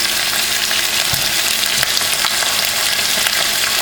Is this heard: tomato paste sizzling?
yes